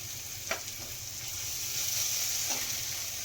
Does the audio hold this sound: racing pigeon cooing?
no